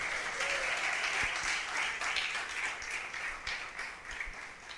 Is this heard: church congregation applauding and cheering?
yes